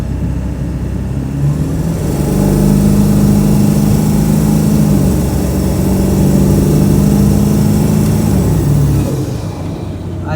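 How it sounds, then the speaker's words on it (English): Ford 7.3 Powerstroke diesel truck with a turbo, climbing uphill at wide open throttle, its engine droning loud and steady, rising and holding a strained pitch before easing off near the end, close and alone. "We'll see what I get when I'm all the way wide open throttle."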